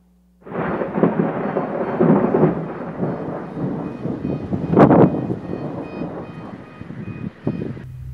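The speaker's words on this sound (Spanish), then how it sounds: "De esta forma fue captada la tormenta eléctrica que se tuvo en territorio chihuahuense." Electrical thunderstorm in Chihuahua: a long, loud rolling rumble of thunder over steady rain, with a sharper crack midway and the roll fading before a cut at the end.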